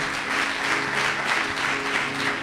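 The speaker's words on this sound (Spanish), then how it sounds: "Denle un aplauso fuerte al Señor." A congregation at a church service applauds loudly, producing a dense, even wash of clapping that holds steady from start to finish, with no talk over it.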